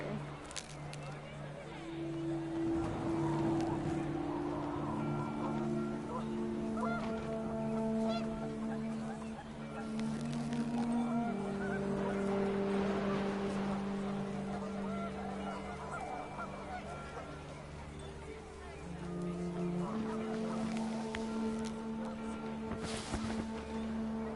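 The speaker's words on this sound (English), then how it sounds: "The wind picked up, and panicked geese appeared and quickly went." Panicked geese honk repeatedly over gusting wind in What Remains of Edith Finch, the calls layered and sustained across the scene, mid-distance and fairly loud, mixed with a low musical drone.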